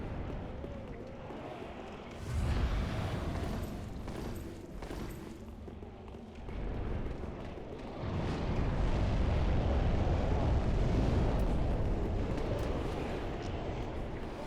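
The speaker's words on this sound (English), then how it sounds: "Fire bombs." Fire bombs in Dark Souls III burst in a run of deep, rumbling explosions, several heavy blasts swelling and fading over the stretch and the last one rolling out long and loud, with no talk over them.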